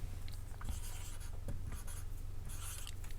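Marker or chalk scratching across a board during a trigonometry lesson, a steady run of close scraping strokes with brief pauses, heard alone without talk.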